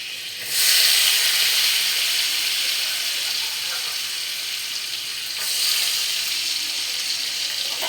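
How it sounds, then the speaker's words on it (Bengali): Chopped garlic dropped into melted butter in a pan for pasta soup, a loud hissing sizzle that bursts up suddenly, holds steady, then swells again as more is added, with no speech. "আর এর মধ্যে আমি বাটারটা গললে এর মধ্যে দিয়ে দেবো আমি রসুন কুচিগুলো।"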